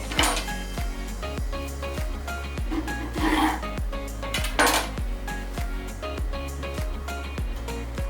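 A knife cutting through a cooled chocolate sponge cake made with rice flour, with soft rubbing and scraping strokes and a few louder passes, close up over a steady low hum and repeated faint clicks.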